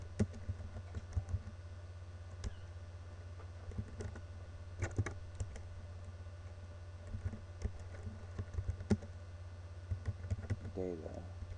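A chmod command typed on a computer keyboard, scattered soft key clicks and taps over a low steady hum, faint and close, with a brief voice near the end.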